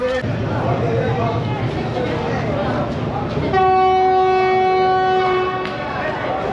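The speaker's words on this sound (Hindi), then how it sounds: "9:50 पे फैसलाबाद रेलवे स्टेशन से डिपार्चर विसल हो गया, फाइनल हो गया, गाड़ी प्लेटफॉर्म से मूव हो गई है" Passenger train pulling away from a railway station platform in Faisalabad, with a long sustained steady departure whistle or horn sounding loud and close over rumbling carriage noise and platform bustle.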